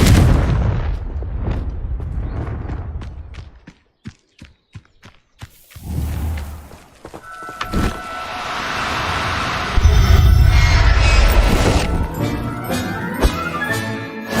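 Confringo fire-blast spells in Hogwarts Legacy on hard difficulty, loud booming explosions and a quick run of sharp cracking impacts, then rumbling blasts with crackling debris and a lingering ringing tone, close with no talk.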